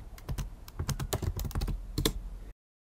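Someone types on a computer keyboard while entering terms into a concept map, a quick irregular run of close key clicks lasting a couple of seconds before cutting to silence.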